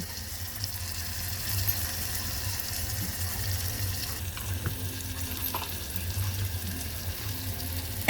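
Water is poured into a pan of masala for a gram flour bhaji, giving a steady, continuous sizzle and liquid splash with stirring, fairly close and without any talk.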